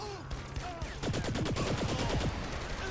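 Rapid bursts of automatic fire from a new gun in Saints Row 3, a fast rattling string of shots that grows denser and louder midway, with faint game sounds underneath.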